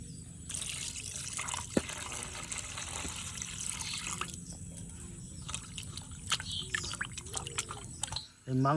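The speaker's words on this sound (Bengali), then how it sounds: "মাংসটা ভালো করে ধুয়ে নিয়েছি" Raw chicken pieces for pakora are washed by hand in water, giving quiet continuous splashing and trickling with occasional louder slaps as the pieces are rubbed and turned in a kitchen bowl.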